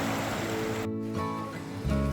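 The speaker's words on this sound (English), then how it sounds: "A lot of little waterfalls here." Small waterfalls on a creek along the north trail at Clear Lake, Oregon, give off a close, continuous rush of splashing water that holds steady throughout, with no talking.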